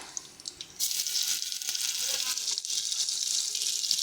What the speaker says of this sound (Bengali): এবারে এই যে গোটা মশলাগুলো, এগুলো আমরা ফোড়ন দিয়ে দিচ্ছি।